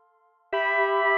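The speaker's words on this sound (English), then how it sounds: "give a quick listen to the Lava reverb" A quiet tone gives way to a sudden bright, sustained chord, drenched in a wide, shimmering reverb from the Lava reverb plugin that rings on steadily to the end.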